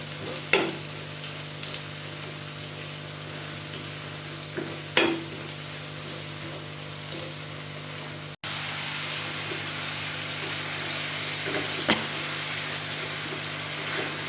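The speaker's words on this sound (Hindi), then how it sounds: "चम्मच चलाते हुए तकरीबन 4 से 5 मिनट आपने इनको अच्छे से भूनना है।" Spices for a fish curry frying in a pan while stirred with a spoon: a continuous close sizzle with a few sharp spoon scrapes and taps against the pan, no talking.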